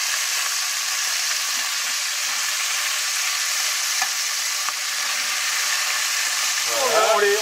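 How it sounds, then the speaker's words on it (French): Veal pieces sizzle steadily as they sauté and brown in a pan over a strong flame, a loud continuous hiss with a faint voice briefly audible near the end. "On les fait sauter comme il faut."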